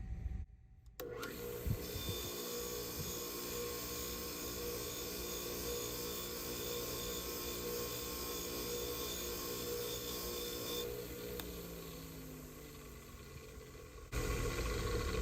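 A semi-soft wire brush, spun on its side edge against an aluminum surface, gives a steady, close, harsh whirring scrape that runs for several seconds and then shifts as the contact changes.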